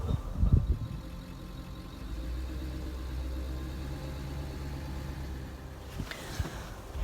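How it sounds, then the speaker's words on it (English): Converted ambulance engine cranking and catching, then settling into a steady low idle rumble, with a couple of sharper knocks near the start and a brief clatter toward the end. "now we're going to try starting up the vehicle again"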